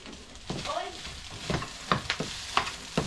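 Samoan fried rice sizzling in a hot pan, turning crispy on the bottom: a steady frying hiss broken by repeated stirring and scraping strokes, with a voice speaking briefly near the start.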